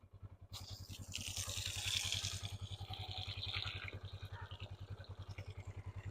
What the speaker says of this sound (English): I'm gonna go ahead and just run some cool water in it.